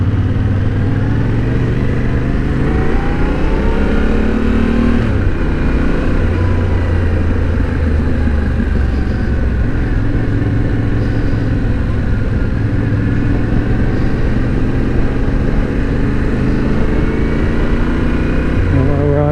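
A 2021 Yamaha Tenere 700 motorcycle engine on a demo ride, a loud continuous drone that rises and falls through revs and gear changes, with steady wind rush, close and alone.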